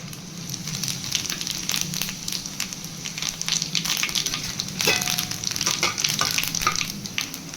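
Dried red chillies and cumin seeds fry in mustard oil for a fish-head muri ghonto, a steady close sizzle with scattered crackles and stirring clicks throughout, no voices.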